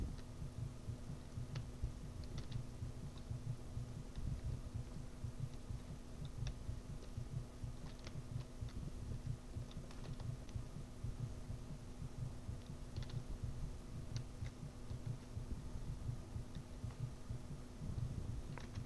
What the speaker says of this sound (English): when your health is low, there's a heartbeat sound effect in the background